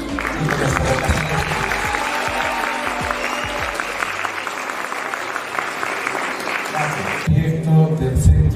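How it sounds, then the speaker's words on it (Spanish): A crowded audience at a children's health event breaks into steady, dense applause that holds evenly for about seven seconds and then thins into scattered claps and crowd noise near the end. "quiero pedir un voto de aplauso por nuestros colores y por nuestra vocación"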